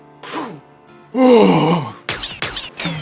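A voice puffs out several heavy, exaggerated breaths, one long groaning exhale followed by a run of short, sharp huffs, close and loud with no words.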